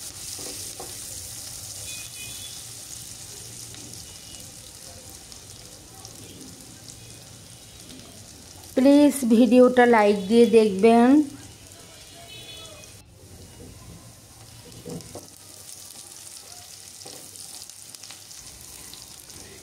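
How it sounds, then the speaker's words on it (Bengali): Onions fry slowly in a pan over medium to low heat, making a soft, steady sizzle throughout. It is briefly covered by a burst of loud music partway through, and a voice speaks quietly. "এখন পেঁয়াজগুলো আমি আস্তে আস্তে ভেজে নিচ্ছি।"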